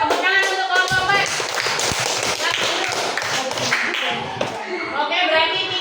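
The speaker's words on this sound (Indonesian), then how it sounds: "Tepuk tangan untuk kelompok 4" A classroom group claps for a student team after their presentation, with sharp, uneven handclaps layered over a noisy room where voices are also heard.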